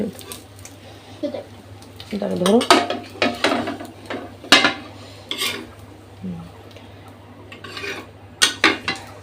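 Metal plates and pots clatter and scrape in a home kitchen while biryani is being prepared, with sharp clinks scattered through the clip over a steady low hum and someone talking nearby.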